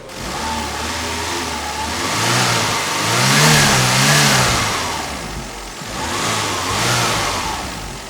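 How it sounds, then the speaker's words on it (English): A Daihatsu 660cc kei car engine is revved repeatedly, surging up and settling back in three swells over a steady idle, loud and close with no talking. "let me give you some revs so you can hear it a little better"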